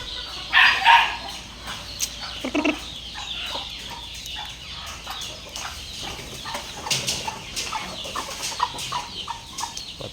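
Two-week-old white Kelso chicks cluck and peep nearby in a cluttered chorus, with a brief sharper call near the start and scattered light movement noises.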